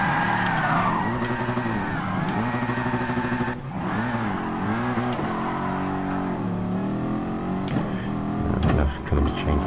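A race car in the video game GT Sport at the Brands Hatch circuit, its engine droning loud and close as it revs up and down through the gears, with brief tyre squeal near the end.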